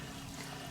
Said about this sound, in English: The dirty water is coming out, and that is not supposed to have any gold in it.